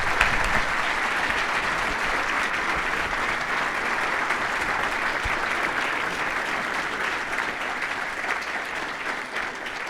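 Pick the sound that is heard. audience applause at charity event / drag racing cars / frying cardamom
audience applause at charity event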